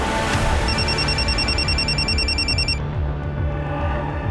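A telephone rings with a pulsing, warbling electronic tone for about two seconds over a dense, loud background of music and noise, then stops.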